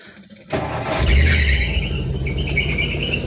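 A 1959 Edsel with an alternator upgrade starts with a key: a brief quiet moment, then the engine cranks and catches, settling into a loud, steady idle with a faint high belt squeal.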